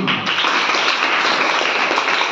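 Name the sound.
clapping for a child answering a question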